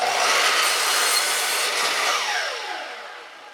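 A wooden baseboard being cut at a 90 degree angle produces a loud, continuous rasping saw noise up close, which tapers and fades over the final second with no talking.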